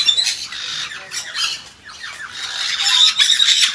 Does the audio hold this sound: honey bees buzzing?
no